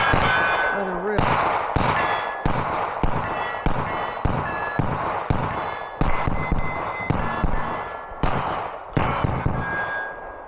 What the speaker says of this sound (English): That's 60 rounds of 115 Blazer Barras, baby.